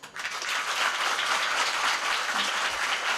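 Dense, steady applause from a kirtan audience in Balapur, Sambhajinagar, with many hands clapping together at an even, sustained level throughout and no voices above it.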